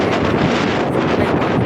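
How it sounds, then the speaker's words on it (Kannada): Heavy wind blows across Kumara Parvatha mountain, a dense, constant roar buffeting the microphone close up with no pauses or voices. "ಇವಾಗಂತೂ ಹೆವಿ ಗಾಳಿ ಬೀಸ್ತದೆ"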